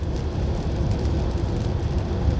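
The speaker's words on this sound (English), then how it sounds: "It's raining so much, and I'm hearing a little sound that I suspect could be coming from my car" Heavy rain pours steadily in a dense, continuous hiss and patter with a low rumbling undertone that may come from a car nearby, loud and unbroken with no talk over it.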